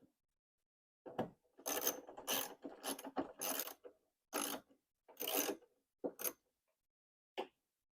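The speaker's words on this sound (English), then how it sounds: "Now we're going to just put the bolts back in to attach the light assembly back to the bracket." Bolts are ratcheted back in to fasten a Chevy Cobalt headlight assembly to its bracket, with quick bursts of close clicking in short separate runs and silent pauses between.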